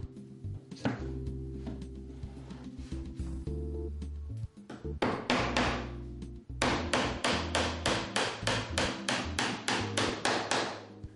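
Nails are hammered into wooden skirting boards, the blows coming as scattered taps at first and then as a fast, steady run of loud, close, sharp strikes with no talk.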